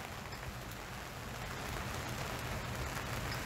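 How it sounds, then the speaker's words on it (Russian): Steady rain falling during a thunderstorm, a continuous broadband hiss of drops on surfaces, even and moderately loud throughout with no talk and no distinct thunder. "увидел, что пошел дождик"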